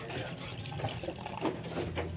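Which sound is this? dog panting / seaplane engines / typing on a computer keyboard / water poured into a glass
water poured into a glass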